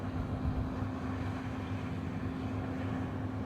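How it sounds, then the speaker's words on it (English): Wind rushes across a farm field during harvest, a steady broadband roar mixed with a low droning hum, likely from machinery, with no talk. "I wish this wind would do one."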